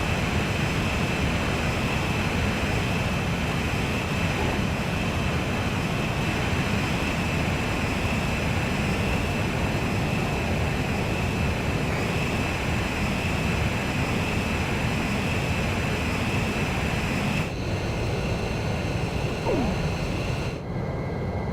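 A jet fighter in Ace Combat 5 holds level flight during aerial refueling, its engine giving a steady, loud, unbroken roar for the whole stretch, with a high whine riding on top and slight changes near the end.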